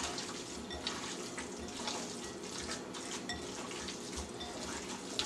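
Hands squelch and churn beef jerky marinade in a bowl, a soft, continuous wet mixing with faint clinks from the bowl, close and fairly quiet.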